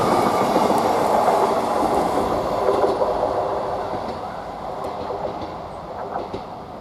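A GBRf freight train passes March railway station, a loud, steady rumble of wagons and rail noise filling the whole stretch, easing slightly toward the end with faint clatter from the wheels.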